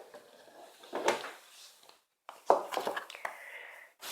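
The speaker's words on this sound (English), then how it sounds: "Top drawer." A drawer of a plastic mealworm breeding unit slides open with a scraping rattle, followed by a sharper knock and further shuffling clatter at close range.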